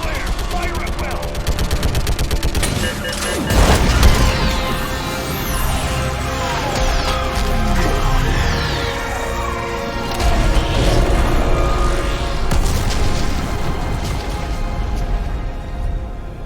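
An orbital strike fired at a Reaper in the Mass Effect 3 video game, a loud, continuous barrage of booming blasts, crashes and mechanical rumble with swelling energy sweeps, voices talking over parts of it.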